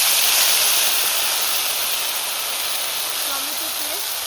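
Cumin seeds sputter in hot oil in a pan, a loud steady sizzling hiss that fades slightly, with faint voices underneath.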